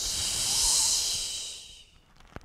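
Breathing in and out during a Pilates exercise, heard as one long, loud, hissing exhale close to the mic that fades away, followed by a faint sharp sound at the end.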